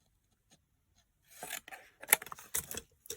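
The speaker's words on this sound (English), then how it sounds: "I'm going to cut this bit off here" Scissors snip through card while a pop-up card is being made, quiet close cutting sounds after a near-silent start, with several short crisp strokes and rustles.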